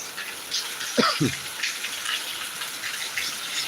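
Heavy rain pours down in Thiruvananthapuram as a constant broadband hiss of falling water, close and even, with a brief voice sound cutting in around the one-second mark.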